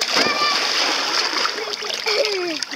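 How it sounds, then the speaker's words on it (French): Water splashing and sloshing close by, with children's voices and other chatter running over it throughout. "Qu'est-ce qui va éclabousser là comme ça"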